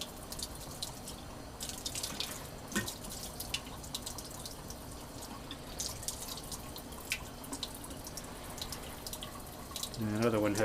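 Tap water runs and splashes as lab glassware that held hydrochloric acid is rinsed out at a sink, a steady hiss of flowing water with scattered clinks and drips, ending in louder splashing.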